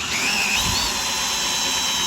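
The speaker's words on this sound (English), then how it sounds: "Put a piece of plywood down, screw it on the corners." A power drill whines steadily at close range, driving screws into the corners of plywood sheets laid as a ramp on a shed build, one continuous high-pitched run with no talk.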